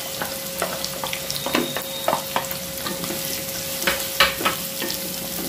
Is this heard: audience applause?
no